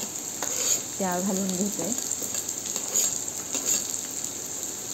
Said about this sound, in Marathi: या तेलावरती आता आपण या सर्व फणसाच्या बिया ज्या आपण बारीक बारीक कापून घेतलेल्या आहेत